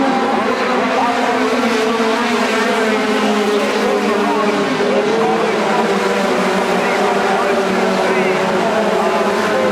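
Midget race cars at Tygerberg Raceway produce a loud, continuous engine roar with several overlapping pitches as the pack circulates, and a commentator talks over the noise.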